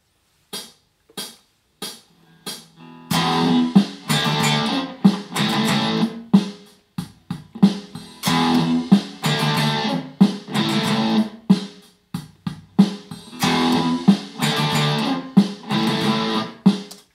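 Strummed electric guitar chords ring out, first as a few sparse single hits, then a rhythmic run of full strums that repeats steadily.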